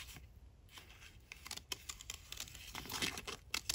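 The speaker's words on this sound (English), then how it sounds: "they're like little tiny amazing scissors" Tiny detail scissors snip paper in quick, faint, crisp cuts, a close run of small dry clicks and crinkles in a quiet room.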